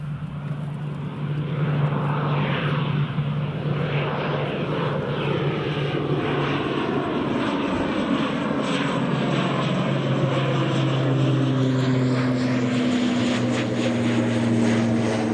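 An Aer Lingus airliner at Newcastle International Airport, heard from a gusty hillside: a loud, steady engine roar with a sustained low drone that shifts in pitch as the aircraft passes, continuous throughout with wind noise.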